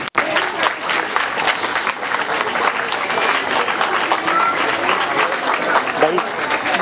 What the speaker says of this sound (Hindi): वैसे इनके लिए खड़े होके तालियां होनी चाहिए।